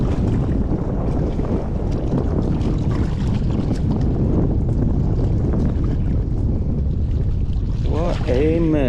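Steady strong wind roars across a fishing boat on open water while catching bluegill, a constant buffeting rush with no break and a brief whine near the end.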